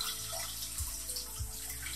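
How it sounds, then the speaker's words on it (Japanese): Tap water runs steadily into a sink as vegetable stems are rinsed under it in a home kitchen, a continuous close splashing wash with no talk. "水洗いします"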